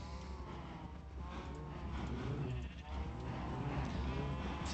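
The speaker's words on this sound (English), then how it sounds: "the cows are just super loud even underground" Cows mooing in a video game, heard from underground, sound as repeated drawn-out calls that overlap one another at a steady, fairly faint level against a constant background hum.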